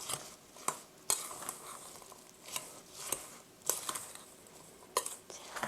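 Apple pieces being tossed with flour in a bowl for an apple cinnamon cake: soft, close scraping and stirring broken by intermittent sharp clinks of a utensil against the bowl, fairly quiet, no voices.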